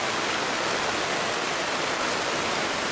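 Heavy rain pours outside a roadside drink stall in the Mekong Delta countryside, a dense, steady hiss of broadband noise close by, with no talk over it.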